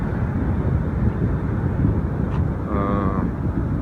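Strong wind buffeting the microphone with a constant low rumble and gusts, a brief faint tone rising briefly near the end.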